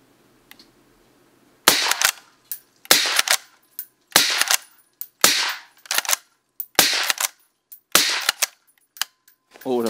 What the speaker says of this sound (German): Dann mache ich nochmal 6 Schuss.